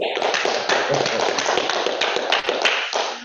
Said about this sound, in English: Let's do a little applause.